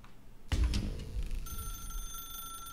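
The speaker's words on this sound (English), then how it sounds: "Now pick up the phone." A telephone rings in The Stanley Parable: Ultra Deluxe. A sudden loud hit leads into a bright electronic ring that holds as a steady tone over a low rumble.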